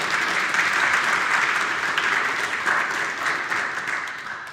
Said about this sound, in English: oh yeah, please go ahead, clap.